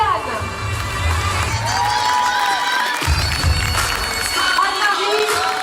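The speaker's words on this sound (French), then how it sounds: "Applaudissez-les s'il vous plaît" A crowd at a Forever Living Products award ceremony cheers and applauds the winners, a loud, sustained mix of clapping, whoops and excited shouts, with a brief dip midway before the cheering picks up again.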